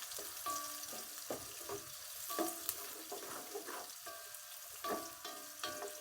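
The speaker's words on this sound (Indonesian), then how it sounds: "Kita aduk-aduk sampainya baunya naik bau dan layu." Onions sautéing and wilting in a pan for nasi mandhi, a soft continuous sizzle broken by repeated scraping and clinking as a utensil stirs them, close and quiet with no talking.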